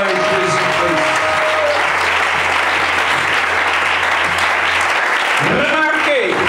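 A church congregation breaks into dense, sustained applause that fills the room, loud and continuous, while a voice carries on over the clapping.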